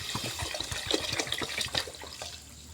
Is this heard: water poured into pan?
yes